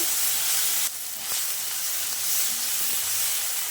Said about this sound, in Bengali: আর তেলের ভিতর দিয়ে দেবো জিরে। এবার মশলাটা দিয়ে দেবো। কষিয়ে নেব।